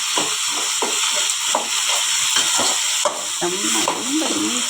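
Tomatoes frying with sautéed onions in a pan: a steady, close sizzle runs throughout with repeated stirring scrapes, and a voice speaks briefly toward the end.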